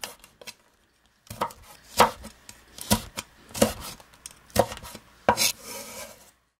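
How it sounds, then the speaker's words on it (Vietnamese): A knife chops chili and green onion on a cutting board, about a dozen sharp, irregular close taps with brief pauses between bursts. "Cắt thêm một ít ớt để mình ăn kèm"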